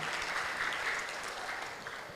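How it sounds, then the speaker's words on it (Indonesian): Faint, distant-sounding applause from an audience during a religious motivational talk, steady dense clapping continuing for a couple of seconds with no clear voices. "Tepuk tangan lah minimal."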